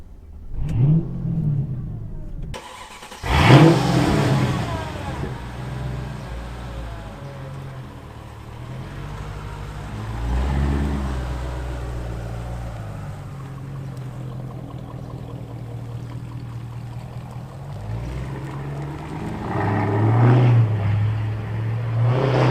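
A 2003 Mercedes-Benz SL55 AMG with a wide body kit on a road test drive, its engine revving up sharply early on, then a steady low drone with rising accelerations, heard from inside with no talk.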